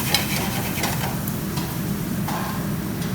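Herbs, garlic, shallots and mushrooms sauté in oil in a pan, a close, steady sizzle with soft stirring scrapes and light clicks, no talk.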